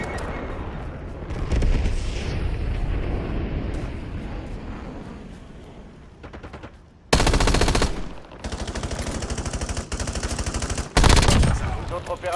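Gunfire in the battle royale game Call of Duty: Warzone, with long automatic bursts, booming shots and a sustained chatter of rapid fire, loud and close, with brief game voice announcements mixed in.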